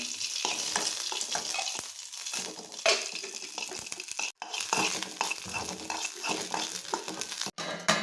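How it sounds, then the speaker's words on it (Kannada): Green chillies frying in a little oil while being stirred: a close, steady sizzle with scraping spoon strokes and brief pauses, no talking. "ಮೆಣಸಿನ್ಕಾಯಿ ಹುರ್ಕೋಬೇಕು. ಸ್ವಲ್ಪ ಕೆಂಪಾಗಬೇಕಷ್ಟೇ, ಭಾಳ ಕೆಂಪಾಗಬಾರ್ದು."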